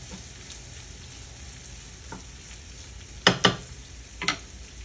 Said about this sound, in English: give our veggies and bacon a stir